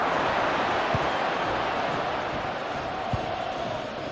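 Stadium crowd noise from a football match in the EA Sports FC Mobile game, a dense, steady roar of many voices filling the whole stretch at fairly loud level, with a couple of faint low thumps and no commentary over it.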